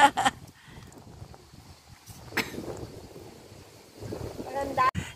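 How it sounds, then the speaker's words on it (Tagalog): Strong wind buffets the microphone on the seaside at Sirolo near Ancona, Italy, with soft rumbling gusts and a few louder bursts, heard without talk. "Lakas ng hangin eh."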